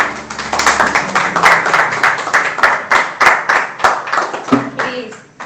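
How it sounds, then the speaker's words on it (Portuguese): A church audience claps along in a steady rhythmic beat, the sharp hand claps close and distinct over faint tones and voices, continuing for several seconds. "Pode dar mais um aplauso a Jesus?"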